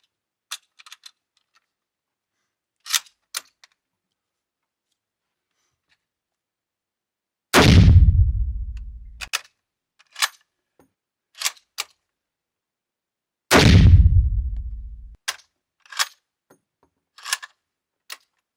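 Two loud booming shots from a restored 1944 Mosin Nagant rifle fired in an underground shooting range, each ringing out with a long echoing tail, separated by quiet clicks and metallic handling of the bolt.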